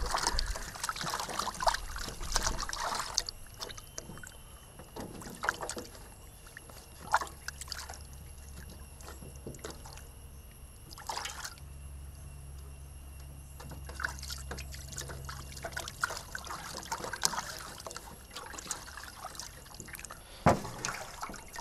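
Tap water trickling and splashing while a whole mutton leg is washed outdoors for a village-style raan roast, a steady soft running flow with brief louder gushes, no talking.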